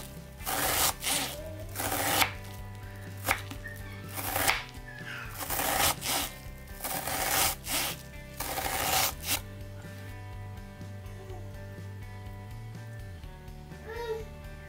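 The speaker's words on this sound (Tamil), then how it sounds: "அதே மாதிரி சின்ன சின்னதாக கட் பண்ணுறதும் இதெல்லாத்தையும் சேர்த்து வச்சுட்டு ரொம்ப பக்கத்துலேயே கட் பண்ணிக்கோங்க" An onion being finely chopped with a knife on a board, rapid bursts of close, loud chopping strokes in quick runs with short pauses, followed by quieter handling near the end.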